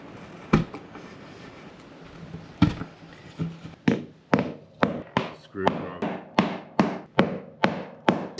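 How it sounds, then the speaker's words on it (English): Fittings are hammered into Adventure Kings vehicle drawers during installation. A few scattered blows are followed by a fast, steady run of about a dozen sharp, close knocks. "Hammer that in."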